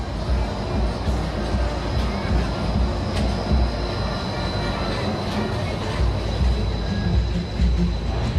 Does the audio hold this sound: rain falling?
no